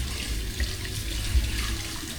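A tap runs cold water steadily with a low rushing gush and bright splashing, continuous throughout with no voices.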